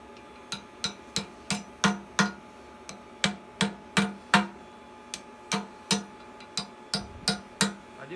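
A blacksmith hammers metal flat on the horn of an anvil while forging tongs, producing a steady series of sharp, moderately loud ringing strikes in an uneven rhythm.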